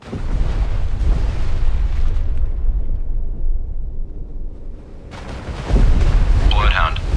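Depth charges exploding underwater in the naval warfare game Destroyer: The U-Boat Hunter: a long, loud, rumbling roar of deep blasts that fades, then a fresh heavy burst of booming detonation.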